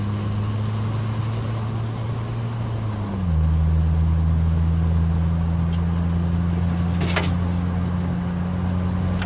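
An old, beat-up car drives along, its engine a steady low hum with a slight drop in pitch partway through, loud and continuous with no talk.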